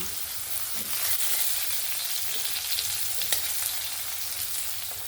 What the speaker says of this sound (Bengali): আলু আর চাল কুমড়োটাকে দেখুন সুন্দরভাবে ভেজে নিয়েছি